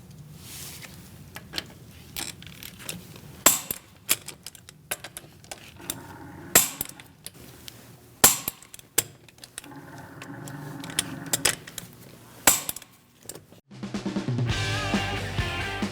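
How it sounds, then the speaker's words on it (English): A torque wrench tightens the lug nuts on a 2000-2006 Mini Cooper wheel with a 17mm socket in a crisscross pattern, giving a series of sharp metallic clicks and clacks spaced apart, with a low hum of background noise. "We're going to torque our wheels to 95 foot-pounds. I'm using a 17mm socket."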